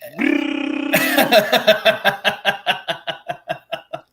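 A voice imitates a fart let out on a vibrating exercise machine: a drawn-out, buzzy blast, then a run of rhythmic sputtering pulses that slowly fade, close and loud.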